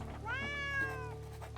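A cat in the video game Drova: Forsaken Kin gives a single drawn-out, throaty meow that rises and falls, clear and close over a low steady background hum.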